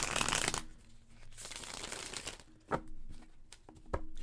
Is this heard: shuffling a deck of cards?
yes